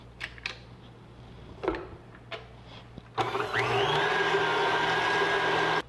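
An electric mixer beats sugar and other ingredients for chocolate muffin batter. A few faint clicks and knocks come first, then the motor starts suddenly and runs as a loud, steady whirring whine to the end.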